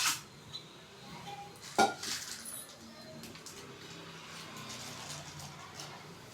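Metal clatter of a dosa griddle set down on a home stove, one sharp clank near the start and another louder clink shortly after, then quiet kitchen background.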